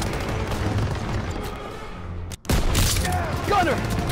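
Gunfire in a World War II video game, Call of Duty WW2: dense rapid shots and booms, loud and close, with a short dropout midway before more sharp volleys and whistling debris.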